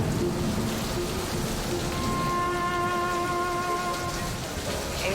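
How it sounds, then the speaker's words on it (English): Heavy monsoon rain in Goa pours down in a dense, unbroken hiss, loud and steady, with a faint tonal hum running underneath partway through. "It has rained most of the time that we've been here"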